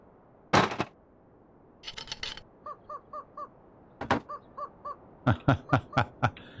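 Crows caw in several bursts, some single harsh calls and one rapid run of short repeated caws, fairly close and loud, with brief gaps of quiet between.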